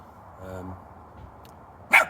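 A dog at a campsite beside a hot tent gives one short, sharp bark near the end. It comes close and loud after a quiet stretch.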